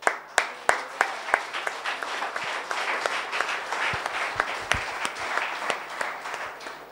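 A church congregation breaks into applause, starting with a few sharp, distinct claps that build into steady, rhythmic clapping, moderately distant and fairly faint.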